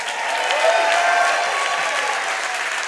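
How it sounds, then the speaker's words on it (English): A crowd at a children's arts camp show applauds steadily, a dense wash of clapping for nearly three seconds at even loudness. "One more round of applause."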